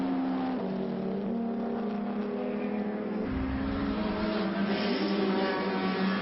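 Race cars at Woodcote corner braking into the chicane during the Salvadori Cup, a steady blend of several engines droning and shifting pitch as they decelerate, with a deeper surge midway, continuous and fairly loud with no talking.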